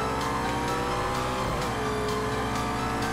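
A McLaren P1 with about 1000 hp in Project Cars 2 accelerates at full throttle, its engine a loud sustained roar climbing in pitch through quick gear changes, heard alone.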